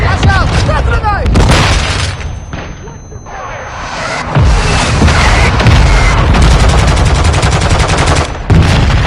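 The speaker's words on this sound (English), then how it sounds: "Flash out! Flash grenade!" Flash grenade bursting during a hardpoint match in Call of Duty Modern Warfare 2 on PS5, a sharp bang within loud ongoing gunfire and explosions, with in-game voice announcements over the din.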